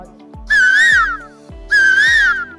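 A voice imitates a cuckoo with two long, warbling whistled calls, close and loud, over a steady thumping beat.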